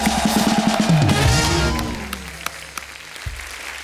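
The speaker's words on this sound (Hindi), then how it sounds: "जोरदार तालियां।" Studio audience applause at a television show, a loud burst of clapping mixed with music that fades away into a few scattered claps.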